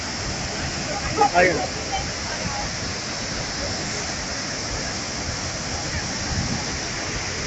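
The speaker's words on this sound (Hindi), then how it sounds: "जो पानी गिर रहा है वो बहुत ही हाइट से गिर रहा है" Steady broadband roar of water falling from a great height at a waterfall in Jabalpur, continuous and close, with a brief voice and a couple of small bumps over the rushing noise.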